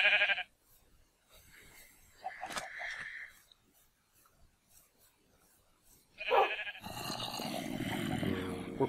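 A sheep in a video game bleats in short wavering calls, separated by quiet gaps, with a longer burst of noisy sound at the end and a brief voice.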